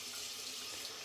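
Cold water runs steadily from a tap into a sink during a soap-making session, a constant close splashing hiss with no pauses.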